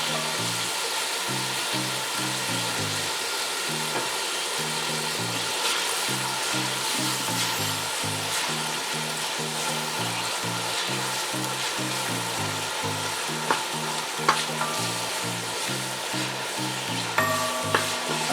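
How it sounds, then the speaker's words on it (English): Seasoning and vegetables for a Jamaican vegetable stew sizzle steadily in a pot, a continuous close frying hiss with a rhythmic low stirring pulse and occasional sharper scrapes, no voices. "Then after the seasoning is completely sauteed, I'll put in the vegetables."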